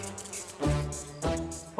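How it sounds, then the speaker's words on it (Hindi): A mosquito buzzing in a scene from the Indian TV crime drama CID, a thin, whining drone that keeps swelling and fading in loudness, close and fairly quiet, heard alone. "ये मच्छर मुझे क्यों काटते, तुझे क्यों नहीं?"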